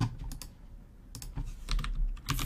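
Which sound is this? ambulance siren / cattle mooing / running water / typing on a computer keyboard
typing on a computer keyboard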